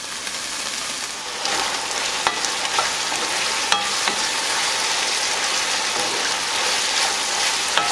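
Ground beef frying in a pan, a bright crackling sizzle like patter on a surface, with occasional sharp clicks of a utensil stirring, close and steady, rising slightly after the first second, no voices.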